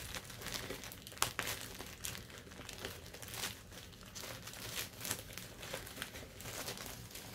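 Plastic packaging of a yarn bag, taped and heat-sealed, crinkles and crackles continuously as it is pulled and torn open, with one sharper pop partway through; close and moderately loud, no talking.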